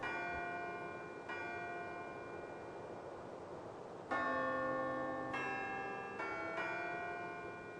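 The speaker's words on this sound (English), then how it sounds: "Wedding bell shit." Wedding bells pealing in the Syberia video game, several resonant bell strikes with long ringing tails that overlap, fairly distant and soft, with no voices.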